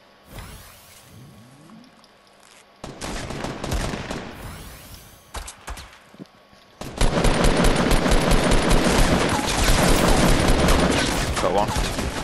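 Rapid video game gunfire bursts in sharp volleys, loud and close, building to a dense continuous stretch of shooting in the second half, with a player talking over it.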